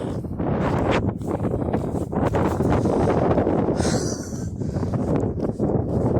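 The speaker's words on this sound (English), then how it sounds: "It's so windy." Strong wind roars continuously, buffeting the microphone with heavy low rumbling and gusty surges, and no talking.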